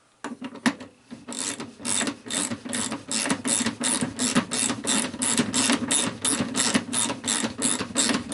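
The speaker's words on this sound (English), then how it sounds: "I think we're gonna get a socket to drive that in." A socket ratchet drives a part into a toy wagon in a rapid, close run of clicking pawl strokes, repeated in rhythmic bursts for several seconds with no talk.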